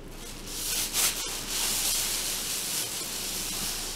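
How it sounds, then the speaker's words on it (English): Plastic shopping bags from a Walmart haul crinkle and rustle steadily and close by, a continuous hissy scrunching with a sharper crackle about a second in. "Sorry about the noise for the bags."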